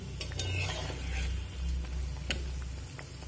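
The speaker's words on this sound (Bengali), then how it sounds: "এইভাবে উল্টে পাল্টে নেড়ে নেড়েই কিন্তু ভেজে নিতে হবে।" Chicken pakoras frying in hot oil give a steady, close sizzle, with stirring scrapes and a few sharp clinks of a utensil against the pan as the pieces are turned.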